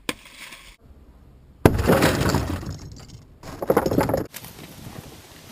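A car window is punched and shatters during a rescue extrication drill, with a sharp crack followed by a long crunching spray of breaking glass, then a second burst of crumbling fragments, close and loud.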